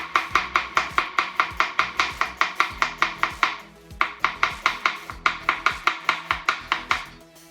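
Pirge Ecco chef's knife chopping onion on a cutting board, a fast even rhythm of crisp, loud chops, about three per second, pausing briefly once before resuming, with no talk.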